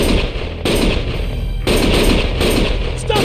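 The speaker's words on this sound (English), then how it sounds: "Stop shooting!" Loud, sustained gunfire from the Lost Judgment video game, repeated automatic bursts close and harsh with short breaks between them, no talk.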